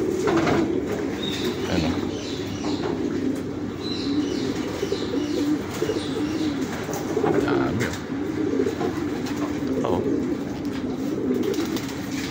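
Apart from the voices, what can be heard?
many pigeons cooing in a hobbyist pigeon loft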